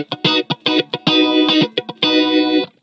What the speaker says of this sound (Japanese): フェイザーオンにすると、